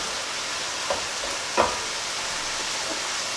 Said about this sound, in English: So we're constantly mixing it up,